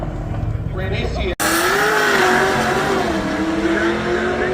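A Pro Charged Dodge Dart drag racing down the track, a loud, near engine roar holding a sustained high-rev drone after a brief cutout, with talk over it.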